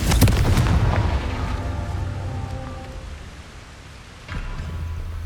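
A Confringo blasting spell goes off in Hogwarts Legacy, a loud low boom at the start that rumbles and decays over several seconds beneath steady game ambience, with a second thud swelling near the end.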